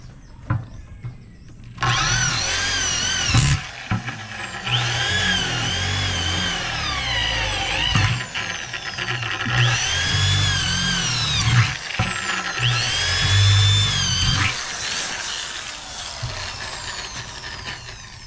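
A power drill drives 8 x 1/2 metal screws into a metal door, sounding in several long whining bursts that rise and fall in pitch, close and loud, separated by brief pauses with no talk.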